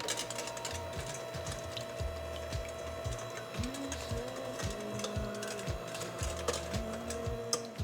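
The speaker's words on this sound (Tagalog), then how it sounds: "Using an electric beater or mixer, we can now start mixing our egg yolk mixture." An electric beater whirs through an egg yolk mixture for a cake, a close mechanical hum with repeated short rises and drops in motor pitch over a steady background rattle.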